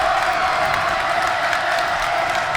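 A loud crowd at a high school varsity basketball game roars and cheers steadily, a dense wall of voices and clapping in an indoor gym.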